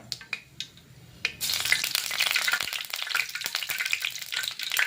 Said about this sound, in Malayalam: അത് കടുക് നന്നായിട്ട് പൊട്ടിക്കഴിഞ്ഞിട്ട് നമുക്ക് കൊല്ലമുളക് ഇടാം